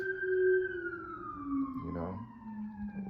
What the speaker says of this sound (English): Look at all these ambulances.